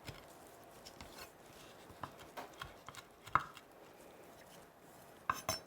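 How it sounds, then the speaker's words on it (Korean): A kitchen knife mincing tuna on a cutting board for an Italian-style fish ragù sauce, with scattered, irregular taps against the board rather than a steady rhythm, fairly quiet and close, with no voices. "칼로 곱게 다져 줄 거예요"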